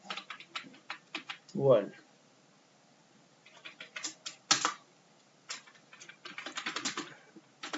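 Fingers type in quick clustered bursts on a computer keyboard, close and clicky, with pauses between runs and someone speaking briefly in between.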